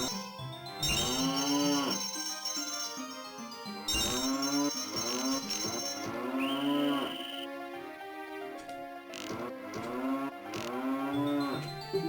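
Several long, loud mooing calls from a cow in the game Zelda: Ocarina of Time, repeating close by with short gaps between them.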